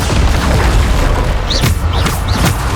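Bombarda spell blasts in the Hogwarts Legacy video game, loud booming explosions with a dense rumble, and several sharp bursts landing in close succession near the end.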